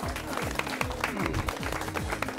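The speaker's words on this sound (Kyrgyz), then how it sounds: "Командага ийгилик кол чаап коелу анда." An audience claps for a team at a quiz game show, giving a brief, moderately loud burst of rapid, dense applause that holds steady throughout.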